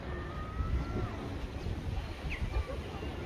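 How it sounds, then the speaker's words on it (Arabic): Strong wind buffets the microphone at a seaside spot, a continuous low rumbling roar with gusty surges throughout, close and steady. "وكاين الرياح القويه"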